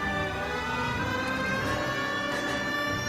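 Police car siren in the L.A. Noire video game, wailing continuously and loud throughout alongside a steady rumble of city traffic.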